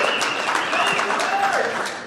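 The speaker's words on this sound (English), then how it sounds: "The applause exponentially louder than the applause from me, which I appreciate." Audience applause at a live podcast event in Las Vegas, a brief continuous burst of clapping with voices mixed in.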